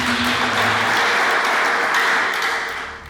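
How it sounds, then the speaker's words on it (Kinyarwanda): A church wedding congregation bursts into applause, a dense wash of clapping that holds steady and then begins to fade near the end. "amashyi."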